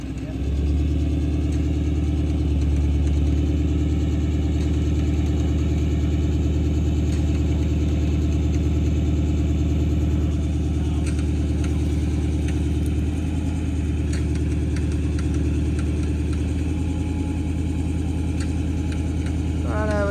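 A bogged vehicle's engine runs steadily in a state forest, a loud continuous drone throughout with slight shifts in pitch as it is pushed, while people talk over it.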